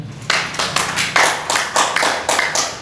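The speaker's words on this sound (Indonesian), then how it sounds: "Tepuk tangan." Audience at a Horas Bangso Batak Jabodetabek regional board ceremony clapping, a steady patter of hands with repeated louder bursts of claps over about three seconds, fairly close, no talk.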